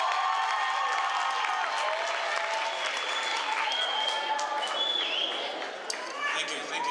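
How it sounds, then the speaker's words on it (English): An audience at a youth seminar claps steadily throughout, with some cheering, whistles and murmured voices mixed into the sustained applause. "Can we give him a round of applause?"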